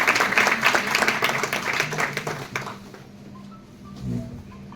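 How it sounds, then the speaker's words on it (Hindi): A burst of audience clapping at a college health talk on sleep, fairly loud for about three seconds before cutting off into quiet room tone with a faint voice. "एक बार जोरदार ताली"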